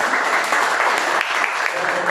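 Steady applause from a group at a Toastmasters club meeting, a dense, even patter of clapping that fills the whole moment without pause.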